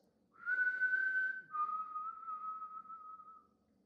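A single person whistles a short two-note falling tune imitating Negan's whistle from The Walking Dead, the first note higher and the second held longer, clear and alone.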